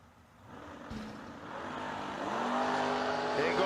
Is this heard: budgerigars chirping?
no